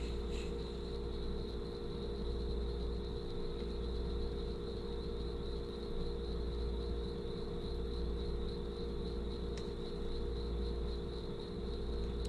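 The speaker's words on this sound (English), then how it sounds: "The crickets are very appropriate here." Crickets used as a sound effect after a joke, chirping in a steady, even trill that runs alone throughout over a low, constant background hum.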